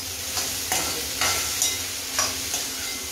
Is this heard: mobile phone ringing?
no